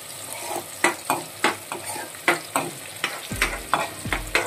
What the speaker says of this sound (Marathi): त्याचा मसाला इकडे मी तेलामध्ये परतायला लावलेला आहे